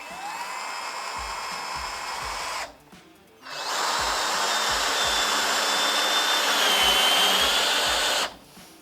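Cordless drill from a four-piece battery tool set driving a short, thick screw straight into material without a pilot hole, two loud whining bursts of motor with a short pause between, alone without talk.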